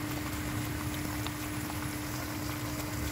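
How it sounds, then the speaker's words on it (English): Palak spinach paste frying in a pan, a steady close sizzle and low bubbling that runs unchanged throughout with a faint constant hum beneath. "We will fry it a little bit longer."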